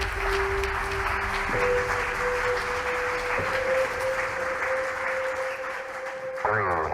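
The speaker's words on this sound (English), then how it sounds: "Please join me in an applause" Sustained audience applause fills a session hall at the International Astronautical Congress, a dense continuous wash of clapping with a steady tone running underneath and a brief shift near the end.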